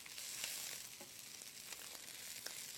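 Kale leaves sizzling steadily in a hot pan with faint scraping touches as they are stirred, a constant bright crackle with no voices.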